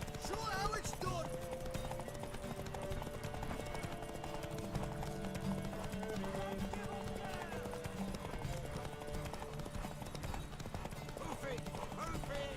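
Horse hooves clip-clop in a steady run through a video game scene, the rhythmic footfalls blended with background music and ambience while voices talk over them throughout.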